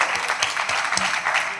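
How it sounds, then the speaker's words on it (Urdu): An audience claps at the International Urdu Conference in Karachi, a short burst of dense, lively applause close to the listener, with little else audible. "اس پہ بھی تالیاں ہونی چاہیے"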